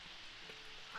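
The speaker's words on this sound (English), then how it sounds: "It's raining right now" Steady rain falling in The Sims 4 life-simulation game, a soft continuous hiss of drops on surfaces that stays even throughout, with no one speaking.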